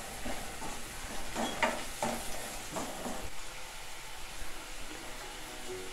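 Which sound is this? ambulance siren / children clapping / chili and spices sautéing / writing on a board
chili and spices sautéing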